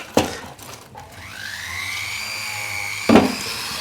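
A rouge polishing mop works a solder joint, a motor whine rising and holding steady with a brief knock at the start and another contact burst near the end, fairly close and without talk.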